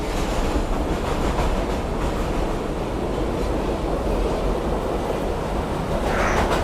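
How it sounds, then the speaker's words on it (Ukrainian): A Roblox train riding along rails with loud, steady rumbling and rhythmic clickety-clack throughout, a continuous rolling roar with no talk. "Аж поїзд трясе."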